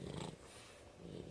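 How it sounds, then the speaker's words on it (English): Pet dogs indoors growl and grumble in low, rumbling bursts that start and stop, close by and fairly quiet. "excuse my dogs and the loud noises that they're making"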